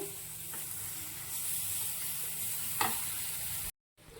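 Kempu chutney ingredients sautéed with salt in a pan give a steady, close hiss and sizzle with soft stirring scrapes, broken by a brief silence near the end before the sizzle resumes.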